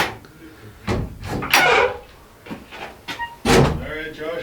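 A cabin door being handled as visitors arrive, heard as a few short knocking and bumping sounds spread over several seconds, with voices talking quietly in the room.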